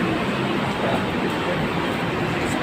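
Light rail train running along an elevated track, a steady broadband rumble and rush of wheels and air that holds constant and fairly loud throughout, with no voices over it.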